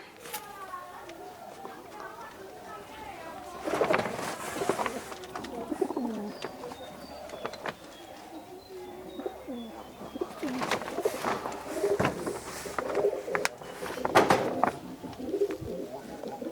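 An Aliballa pigeon pair cooing nearby, soft throaty coos rising and falling in bursts between quieter stretches, with someone talking over them and other birds chirping in the background of a pigeon sale.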